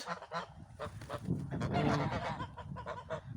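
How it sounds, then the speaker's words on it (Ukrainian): Several geese in an autumn orchard honk repeatedly in overlapping, nasal calls nearby, a busy flock chattering at moderate volume. "Гуси красені восени."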